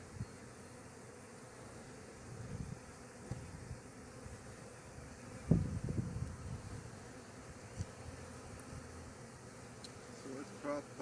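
Honeybees buzzing from an opened hive during a hive split, a steady close droning hum that carries through the whole span, with a brief louder bump in the middle and faint speech nearby.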